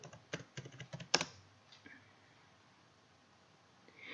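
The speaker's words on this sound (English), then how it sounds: "I'm going to put my email and you're going to put your email and as well as your password." Quick keystrokes on a computer keyboard while an email address and password are entered, a burst of clicky taps over about a second, then near silence.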